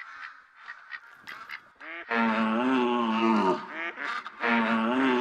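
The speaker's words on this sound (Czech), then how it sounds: "co tady ty kačeny zase dělají za to, za nálety" Ducks quack in theHunter: Call of the Wild during a hunt at Te Awaroa, with short scattered calls first, then long, loud, harmonic honking quacks that recur in close, repeated bursts.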